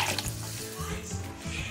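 About two liters of water pour into a pot of boiling fish and shrimp broth, a continuous close splashing rush with faint background murmur.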